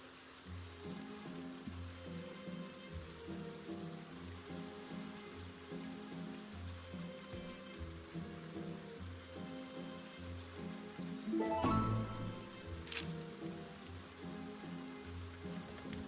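Steady rainfall in the Stonehearth video game, a soft continuous patter and hiss over low ambient music, with a brief louder swell near the end.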